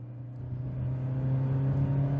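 A Hyundai Accent Era with a 97 hp 1.4 petrol engine and manual gearbox pulls under acceleration, its steady engine drone and whir rising gradually and filling the cabin from start to finish without any talk.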